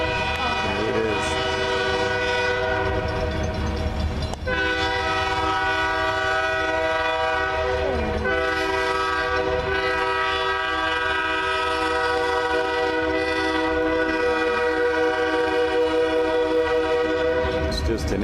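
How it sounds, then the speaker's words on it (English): A single locomotive rolls past with its horn blaring in long sustained blasts, loud and close over a steady rumble, the horn sounding again partway through. "Got a train coming through here from somewhere."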